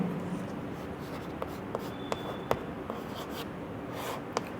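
Pen on paper during a handwritten math lesson gives faint, close scratching strokes with a few small taps between them and no talking.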